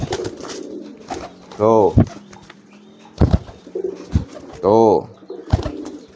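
Racing pigeons cooing close by in two distinct bursts of rolling coos, with someone speaking briefly in between and some light handling noise.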